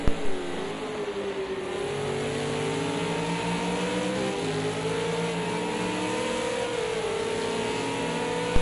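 An Australian V8 race car engine howls steadily at Road America, holding high revs with slight pitch shifts as it accelerates, loud and continuous with no speech.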